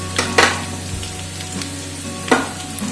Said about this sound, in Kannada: ಈಗ ನಾನು ಇದಕ್ಕೆ ಕಡಲೆ ಬೀಜ ಹಾಕ್ತಾ ಇದ್ದೀನಿ